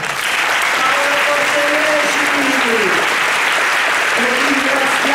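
Audience applause at the opening of a Milan film festival, a loud, sustained, dense clapping with a host's voice speaking over it.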